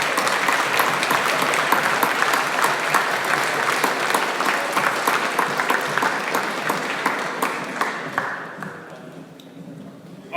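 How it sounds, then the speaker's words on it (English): Audience applause for a hackathon team at a final demo session, a dense steady wash of many hands clapping for about eight seconds before tapering off near the end. "Can we run applause for SmartJar?"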